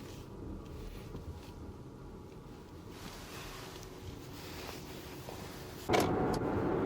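Mercedes EQA electric car driving around a harbour hill in Mokpo in winter at minus six degrees, a quiet steady interior road rumble and tire noise that gets louder near the end.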